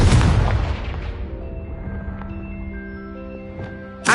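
A Confringo blasting spell from Hogwarts Legacy goes off as a loud, broad explosion that decays over a couple of seconds into a ringing, humming tail, with a second sharp burst at the end.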